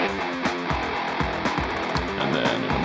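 A single distorted electric guitar from a metalcore song plays alone, a loud, dense, continuous wall of gritty tone with chugging rhythmic accents and no voices.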